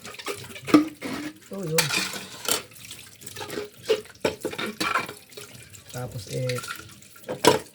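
Tap water runs at a sink while dishes are washed, with splashing and occasional clinks of plates and cutlery, mixed in with ongoing conversation.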